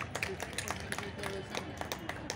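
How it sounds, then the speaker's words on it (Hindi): Audience applause at a women entrepreneurs' MSME expo in Patna, Bihar: a short burst of scattered hand claps filling a crowded hall, fairly close and steady, with some crowd murmur underneath. "ताली बजाइए"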